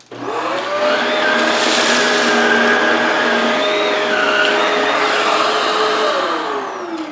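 A Shark Rotator Powered Lift-Away vacuum cleaner runs loud and steady on carpet, sucking up crushed Cheerios with a continuous whining roar and shifting tonal pitch for about seven seconds, with no talking.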